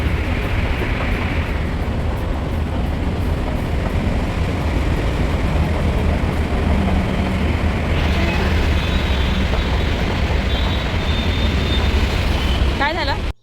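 A metro train travels with a loud, continuous rumble and rushing roar, steady throughout, with a brief high electronic tone near the end.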